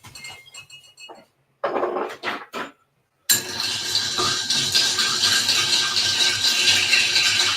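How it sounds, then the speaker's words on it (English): A spoon or utensil stirs food in a pot with rattling metallic clinks, in short bursts at first and then a steady, continuous scraping and clattering that runs close and fairly loud. "Give it a good old stir."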